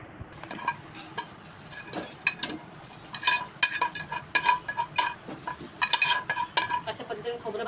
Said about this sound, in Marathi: आता हे खोबरं भाजून घेतलेलं त्याला काढून घेते.